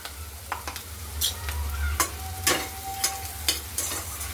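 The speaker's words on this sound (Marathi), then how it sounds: "वाटण मस्त परतून घेऊ" Coconut chutney paste fries in a pan with mustard seeds, cumin and curry leaves, a steady close sizzle broken by repeated stirring scrapes, with no talking.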